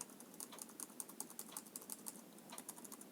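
Keys on an Asus ZenBook UX510UX laptop keyboard are pressed in a quick, fairly even run of soft, faint clicks, close by and with no talking.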